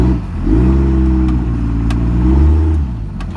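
1998 Dodge Ram 2500 with a turbo Cummins diesel and 8-inch dump exhaust, revving close up in one loud, deep, rumbling pull that swells and then eases off.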